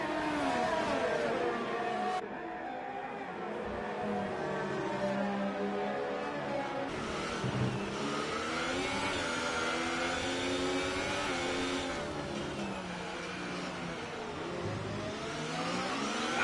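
An F1 race car engine in a Singapore round of a sim racing league whines continuously, its pitch rising and falling through gear changes and gentle throttle inputs, loud and steady with no talking.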